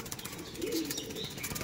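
Domestic pigeons, including an older-generation male bird, coo softly in a low murmur across a short stretch, mixed with faint background bird chatter and no talking.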